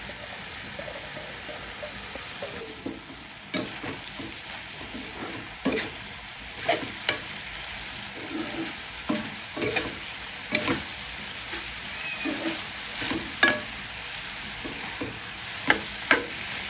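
Papaya and whole green chilies fry in a pan, a continuous moderate sizzle broken by repeated scraping and clattering stirs at irregular intervals, close by, without speech.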